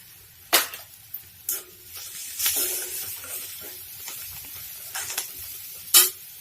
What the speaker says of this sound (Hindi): और इसे भी 2 मिनट के लिए भूनने देंगे। अब हम इसमें लाल मिर्च भी डाल देते हैं